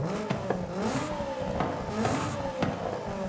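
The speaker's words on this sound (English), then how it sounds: "That's just the engine revving higher" A car engine in Forza Horizon 5 revs hard at high RPM, its rising and falling whine sweeping up repeatedly over a few seconds, loud and continuous, with faint clattering behind it.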